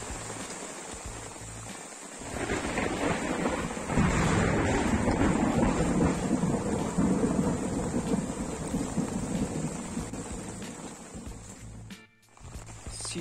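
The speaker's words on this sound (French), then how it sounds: "la pluie n'a pas cessé de tomber toute la nuit" Heavy rain pours on a desert island at night, with deep rolls of thunder and gusting wind; a steady, dense roar that swells after the first two seconds and holds loud almost to the end.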